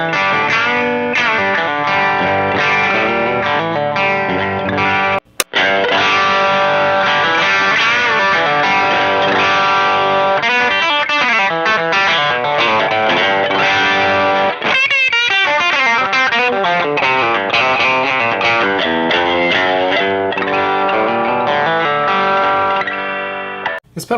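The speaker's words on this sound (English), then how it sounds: "This pedal has a control for drive, which is of course how much distortion is added to the signal." Electric guitar through a tube boost pedal with a thick, overdriven tone plays chords and melodic lines continuously, with a short break near the middle.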